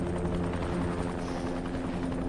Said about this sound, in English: Helicopter. Where the fuck was that?